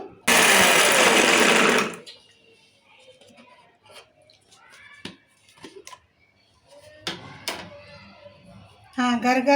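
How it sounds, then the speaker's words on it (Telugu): A mixer grinder roars loudly for about two seconds as it grinds roasted gram and coconut, then cuts off, leaving soft knocks and clatter of the jar before another brief burst starts at the end. "మిక్సీ పట్టుకుందాం"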